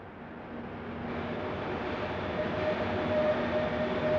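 An SNCF CC 72000 diesel locomotive runs on a factory test track, giving a steady, slowly building rumble with a faint tonal whine; no voices.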